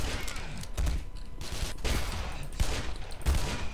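Gunfire from a shotgun in the video game Black Mesa, a rapid string of sharp blasts and clatter running through the whole stretch, fairly loud and without speech.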